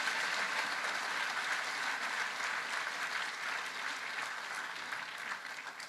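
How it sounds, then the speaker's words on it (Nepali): Sustained applause from a crowd at a church camp meeting, a dense continuous clatter of clapping that holds steady and eases slightly toward the end. "उहाँलाई जोरदार ताली बजाइदिनुहोस्"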